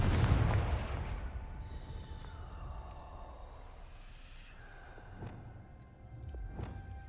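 Confringo fire spell in the Hogwarts Legacy video game: one loud booming blast at the start that fades into a long rumbling tail, followed by faint scattered game effects.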